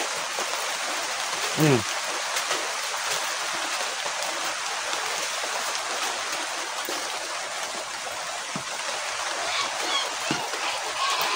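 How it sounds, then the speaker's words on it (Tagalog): Heavy rain falling outdoors at night, a steady hiss of water with trickling and drops hitting surfaces, continuous and moderately loud, with occasional voices and thumps underneath. "Grabing ulan guys, oh"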